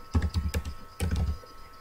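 Quick clattering keystrokes on a computer keyboard, two short bursts of close, crisp taps separated by a brief pause.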